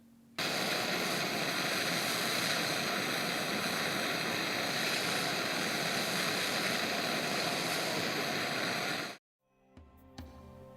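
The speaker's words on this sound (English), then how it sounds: "Clean the condenser coil externally with air blower" Air blower roaring steadily and loud for about nine seconds while cleaning the condenser coil of a bottle cooler, then cutting off abruptly, followed by brief clatter.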